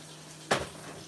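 Hot water poured from a kettle into a pan of pork chops on a stove top, a single short splashing gush with a brief sizzle, close by in a quiet kitchen.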